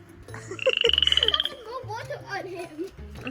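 A pet frog croaks in a rapid, pulsing trill of close, loud calls, with children and an adult talking around it.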